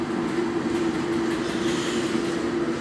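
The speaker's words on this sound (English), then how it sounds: "Sorry for the noise. There's a fucking train going by." A passing train rumbles on continuously with a steady low drone and faint rail clatter, moderately loud and somewhat distant, filling the whole stretch without any talk.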